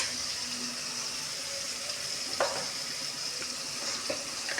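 Food in a pan is mixed after salt goes in, a steady soft sizzle with a few sharper scrapes and taps of the spoon against the pan, close and quiet.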